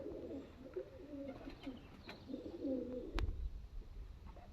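Pigeons at a breeder's loft coo in repeated low, throaty bursts, a steady rolling chorus close by with a sharp knock near the end.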